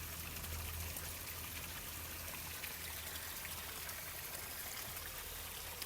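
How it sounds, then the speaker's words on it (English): A newly switched-on garden pond stream runs from a gravity discharge filter, giving a steady, faint wash of trickling water that stays even throughout with no voices. "Just switched on the stream to give it a dummy run."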